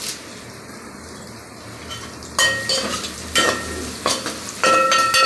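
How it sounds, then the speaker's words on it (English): Curry leaves hitting hot oil with onions for a dhaba-style Indian chicken curry, quiet frying at first, then loud crackling bursts as the leaves drop in, with a spoon stirring. "And now I will add my curry leaves."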